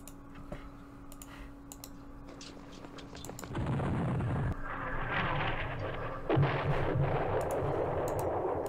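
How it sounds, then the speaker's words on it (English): Artillery fire in a Middle East war strategy computer game, with muffled booming blasts and rumbling, heard close after a spell of mouse and keyboard clicking. "We're running into artillery, though. Those are some big guns."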